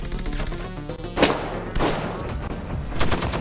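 Gunfire in the video game Not for Broadcast: bursts of shots and loud cracking blasts, close and harsh, with a rattling fusillade and sharp impacts over a busy backdrop.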